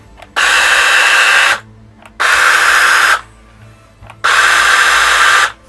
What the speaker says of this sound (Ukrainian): Включимо нашу пилку.